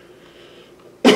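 One short, harsh cough bursts out loud and close after a second of quiet outdoor background.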